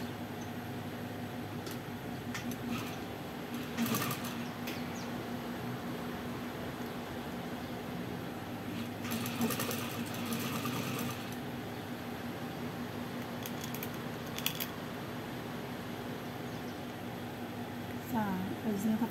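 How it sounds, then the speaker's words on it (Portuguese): A sewing machine stitches knit fabric with orange thread, its motor giving a steady, continuous hum and whir that runs through the whole stretch at moderate loudness, with a few faint clicks and handling noises. "Aqui eu vou costurar um pé de malha."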